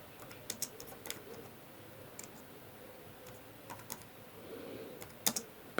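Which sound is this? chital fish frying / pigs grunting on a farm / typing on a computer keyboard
typing on a computer keyboard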